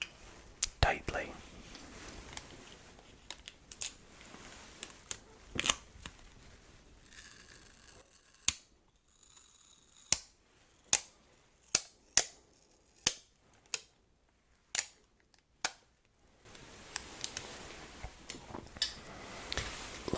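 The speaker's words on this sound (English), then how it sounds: "we will attach some tape to secure the lid on" Sellotape pulled and torn in a run of crisp, sharp rips to secure a case lid, close and isolated, with softer handling rustle and quiet whispering before and after.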